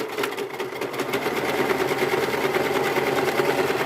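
A sewing machine runs a back stitch while making a t-shirt and leggings, its motor a loud, continuous close whir with a fast rhythmic needle chatter, heard alone without speech.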